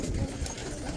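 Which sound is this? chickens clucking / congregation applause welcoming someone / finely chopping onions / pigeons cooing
pigeons cooing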